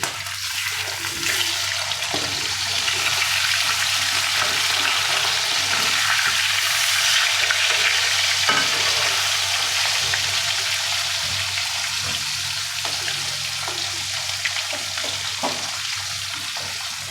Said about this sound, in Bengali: এবার মাছটা ভাজা হয়ে গেছে, একদম বাদামি রং হয়ে গেছে।